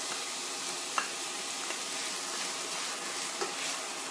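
About a cup of chopped onions sizzle in a hot pan for a vegetarian Bolognese. The frying hiss stays steady and close, with a few light clicks of stirring and no voices.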